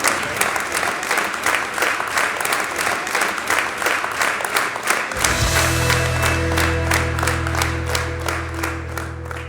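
An audience at a live concert breaks into loud sustained applause, dense clapping that carries on for several seconds while music with a low sustained tone enters partway through.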